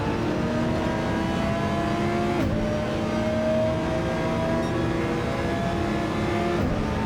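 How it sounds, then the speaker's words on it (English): A race car engine in a racing video game revs hard from the on-board view, a loud sustained whine that climbs and drops with gear changes and holds a steady drone throughout, with no voices. "Revs it right out, does Callum."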